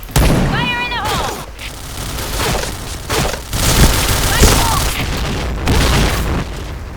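Grenade blasts and gunfire ring out in a video game match on the Sandstorm map: loud repeated booms and bursts of shots, with voices shouting over the action throughout.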